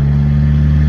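Audi S3 8Y with its muffler removed, its engine droning loud and steady with a deep, continuous tone as the turbo spools, close up with no voices.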